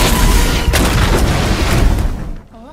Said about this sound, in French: Exactement, une explosion.